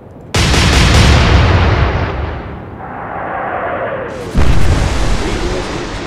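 Naval gunfire in the Atlantic Fleet warship game: a loud broadband boom opens, a rumbling decay follows, and a second heavy blast lands about four seconds later. The booms are heard alone, without talk.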